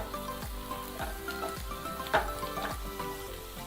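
Coriander powder sizzles in a pan of hot oil with green chillies, a soft continuous hiss broken by regular scraping stirs and small crackles, close and fairly quiet.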